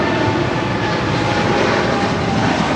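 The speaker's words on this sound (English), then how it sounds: "This is China Airlines Cargo 5224 departing to Miami, Florida on a 777 freighter." A China Airlines Cargo Boeing 777 freighter, flight 5224 bound for Miami, departs LAX with a loud, steady, broadband jet roar that holds evenly throughout.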